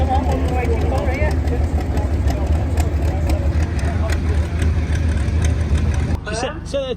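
2,000-horsepower race car engine idling at a drag racing event, a loud deep continuous rumble close by, with a voice cutting in near the end.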